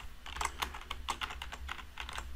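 Quiet, irregular key clicks tap out a file name on a computer keyboard, with short bursts and small pauses at close range and no talking.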